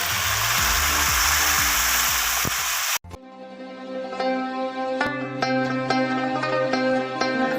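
Mutton dropped into a hot karahi breaks into a loud, steady sizzle after a sharp transition, with bright crackling pops and a faint background hum continuing throughout.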